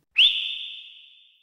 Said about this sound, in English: Sandy hears her mother whistle louder.